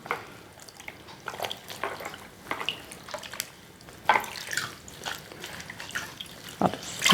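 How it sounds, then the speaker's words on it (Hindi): A towel is dipped into a vessel of water, with splashes, trickles and sloshing bursts that come in irregular waves, close and fairly loud, and no talking. "टॉवल को पानी में डिप करेंगे"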